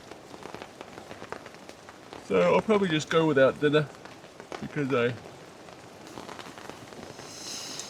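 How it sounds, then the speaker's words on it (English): Steady rain pattering on a camping tent on a Lake Superior trip: a dense, close, continuous patter throughout, with someone talking under it partway through. "Had some pretty good rain, and we're going to have rain until about 11 tonight."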